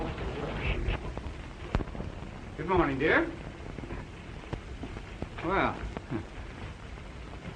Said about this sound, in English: is it raining outside?